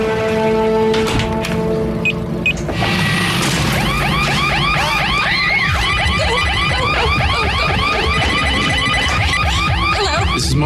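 A Broadview Security home alarm system goes off during a break-in, a loud wailing siren with a rapidly warbling, repeating sweep that takes over after a brief clattering start and continues steadily.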